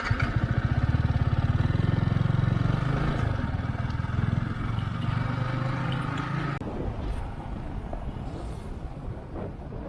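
A Yamaha R15 V3 motorcycle rides along a tree-lined road, its engine droning steadily up close with wind rush, the note shifting partway through as the throttle changes.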